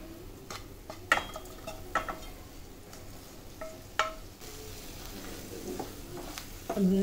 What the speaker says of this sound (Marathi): पनीर जे भाजून घेतले ते आपण आता ह्याच्यात टाकूया.